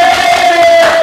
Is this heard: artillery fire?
no